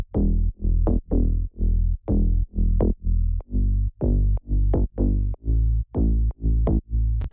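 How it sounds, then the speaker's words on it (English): Layered distorted mid basses over a square-saw sub bass from Serum, pumping in a steady rhythmic pattern of short punchy notes with sharp attacks, loud and alone with no voices. "So all the basses together sound like this."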